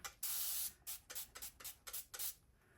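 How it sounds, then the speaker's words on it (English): A spray bottle hisses in a long burst onto a mixed media painting, then several short quick pumps follow in uneven rhythm, close by. "Okay, let's spray this down."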